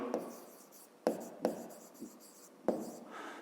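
Handwriting numbers on paper for a fifth-grade maths exercise, a few sharp close taps followed by soft scratchy pen strokes, quiet and without talk.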